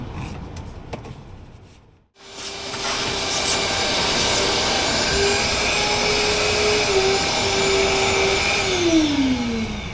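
A vacuum cleaner roars steadily and loudly inside a 1978 Ford Thunderbird being restored, briefly cut off near the start, then running continuously with a high whine that shifts pitch late on.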